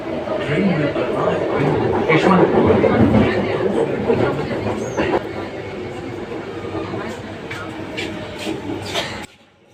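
A metro train rumbles and hums as it slows into Yeshwanthpur metro station in Bangalore, with a crowd murmuring nearby and brief clatters before the sound cuts off.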